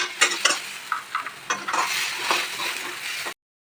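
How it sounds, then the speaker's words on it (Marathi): Spices roasting in a kadhai for a paneer dish: a soft steady sizzle with scattered scrapes and clinks of a spoon stirring against the pan, close and fairly loud, with no voices, ending in a brief cut to silence. "मसाला लागला भाजायला"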